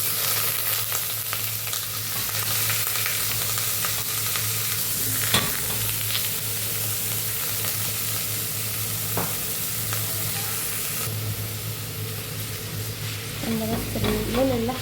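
Minced meat frying in a pan for an okra and meat tagine, a steady close sizzle running throughout with scraping stirring strokes and occasional clinks, no talking.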